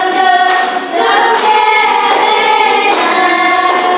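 A class of children claps rhythmically in time with a strong, loud sung melody, the claps landing at regular beats under the singing.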